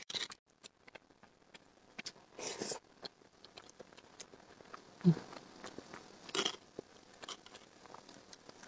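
Biting and chewing fatty pork knuckle: scattered close, crisp bites and wet chewing bursts, with one louder thump near the middle, spread through a fairly quiet background.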